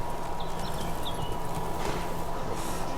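Horse hooves clip-clopping in The Witcher 3: Blood and Wine, a steady rhythmic trot under a soft ambient bed, with faint distant chirps and no voices.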